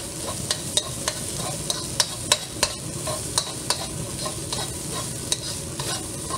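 Spam is stir-fried in a wok for Cantonese fried rice under a steady hiss, while a spatula strikes the metal in sharp, irregular clanks every half second or so.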